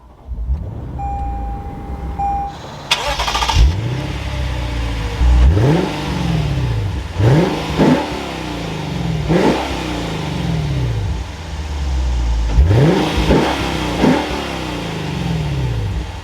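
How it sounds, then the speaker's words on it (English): A naturally aspirated V8 engine in a 2023 Lexus IS 500 F Sport cranks and catches, then revs up repeatedly in loud, rising bursts that fall back to a rumbling idle between blips. "let's fire this up so we can hear that naturally aspirated V8"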